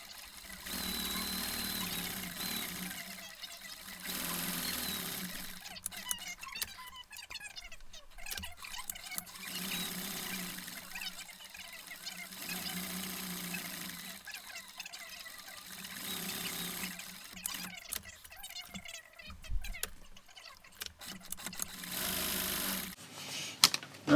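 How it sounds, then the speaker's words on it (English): A sewing machine stitches leather briefcase handles in repeated runs of steady mechanical chugging, pausing between passes, close and moderately quiet. "we'll carry those over to the machine and we'll get those sewn."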